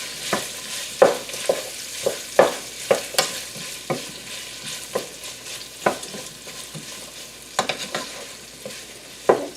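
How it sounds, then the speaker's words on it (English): Kielbasa sizzles in a hot pan of butter and olive oil while being stirred, a steady frying hiss broken by repeated scraping and clattering stirs at an irregular rhythm, close and moderately loud. "Now the pan is hot, so now we're going to add our kielbasa."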